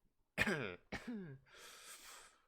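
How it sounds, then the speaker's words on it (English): Two sharp coughs close by, followed by a breathy exhale, with no talking. "Cough, cough."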